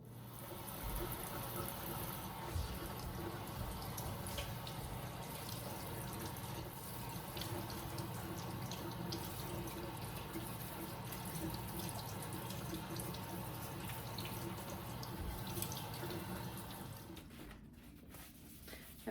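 Warm water runs steadily from a kitchen tap as a spaghetti squash is rinsed beneath it, a continuous splashing stream with shifting patter that quiets briefly near the end.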